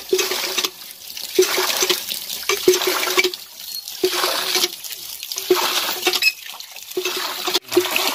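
Water pours from a tap while a duck carcass is washed, making gushing bursts of running and splashing water that start and stop repeatedly, close by, with a brief knock near the end.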